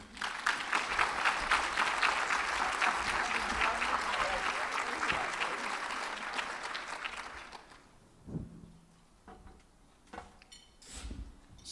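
A conference audience applauding a poet being welcomed at a school counselors' annual conference: dense, sustained clapping for about seven seconds, then fading to scattered claps and room noise.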